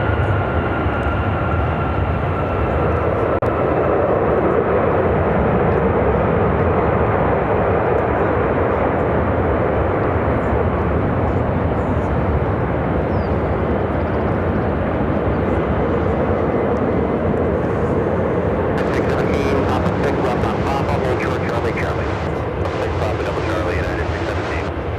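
A United Airlines Boeing 757-300 airliner arriving at Chicago O'Hare, a loud, continuous broad engine roar that holds steady, with talk over it.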